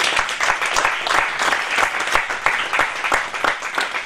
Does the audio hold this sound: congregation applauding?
yes